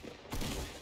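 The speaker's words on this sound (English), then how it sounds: "He doesn't know I have a shotgun!" A single shotgun blast from a Fortnite match cracks out sharply about a third of the way in, leaving a short noisy tail over faint game background.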